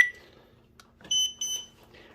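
A Rok wireless alarm hub beeps in pairing mode: a faint electronic tone at the start, then two louder, clear beeps close together in an otherwise quiet room.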